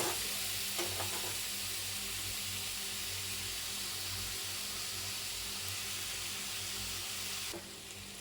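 Tomatoes and gongura leaves cooking in a pan for gongura pachadi, a steady, even sizzle of frying that runs unbroken for several seconds with occasional stirring, quiet and with no talking.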